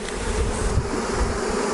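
Honeybees crowd a hive in mid-August as the colony prepares for winter, their dense, continuous buzzing close and steady throughout.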